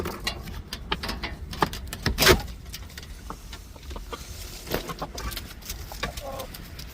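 Chickens, including an Arabian rooster and a red hen, clucking close by, with short bursts and one loud squawk among scattered pecking and shuffling noises.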